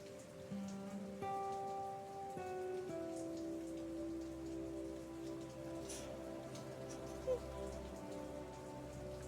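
Steady rain patters on surfaces outdoors during a family walk, a continuous soft hiss. Faint tonal sounds drift in the background, with no talking.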